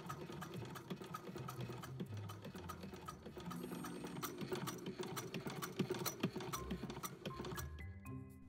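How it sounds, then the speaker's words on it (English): A domestic sewing machine edge-stitches a narrow double-folded hem on a sleeve for an 1890s bathing costume, a steady close mechanical whirr with fine ticking that runs throughout and slows at the end. "The straight edges get folded under twice and edge stitched to make a narrow hem."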